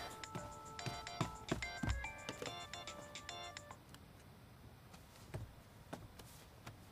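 A mobile phone ringtone signals an incoming call, a short melodic run of bright electronic notes with soft taps, then quiet background; faint and alone.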